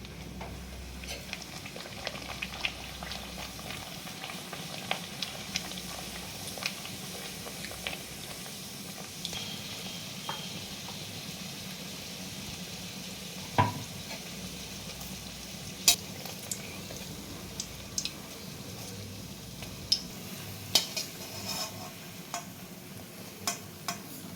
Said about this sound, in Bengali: এবার আমি তেলের মধ্যে ছেড়ে দিচ্ছি